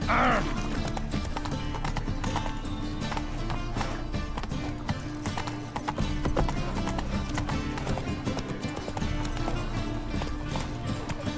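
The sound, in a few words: horse Roach galloping in video game The Witcher 3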